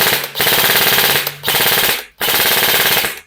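An airsoft rifle fires on full auto in three loud, close bursts of rapid mechanical rattling, each lasting about a second, separated by brief pauses, with no talk.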